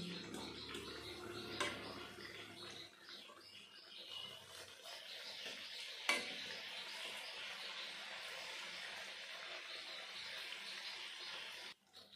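Jamai Adoor pitha deep-frying in hot oil, a steady close hiss and crackle of bubbling oil running throughout with a brief clink near the middle.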